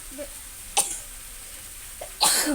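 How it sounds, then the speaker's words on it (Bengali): A few short coughs close to the mic: one sharp cough, a small one later, then a louder burst near the end, over quiet background. "কাশি যাচ্ছে"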